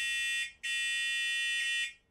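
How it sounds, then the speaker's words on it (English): The horn on a Voro Orca Mark I electric scooter gives two shrill, buzzy electronic tones, a short blast and then a longer steady one, close and fairly quiet with nothing else heard. "We've got a horn right here, I'll give you a sample of that."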